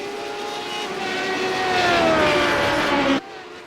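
Race car in a racing game at Silverstone dropping to fourth gear for Stowe corner, a loud engine note whose pitch falls steadily before cutting off abruptly.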